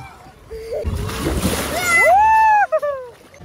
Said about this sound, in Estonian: Printsisid Emme läbi märjaks praegu.